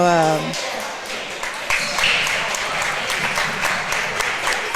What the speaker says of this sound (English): applauding for the food truck for being here